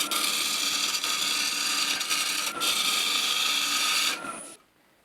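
A bowl gouge cuts into a spinning zebrano wood bowl on a lathe, a continuous rough scraping hiss with rhythmic catches as the out-of-round corner is taken off, ending abruptly as the tool lifts away.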